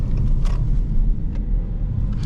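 A Dodge Charger R/T driving on the road, its low, steady exhaust rumble droning continuously close by, with a few faint brief bumps and no voices.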